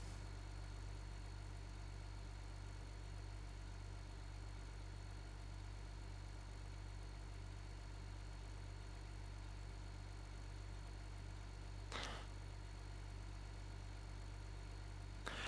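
A tractor idles in the farming game Farming Simulator 15, a steady low engine drone with a constant hum that runs unbroken through the clip, with one brief sharp noise near the end.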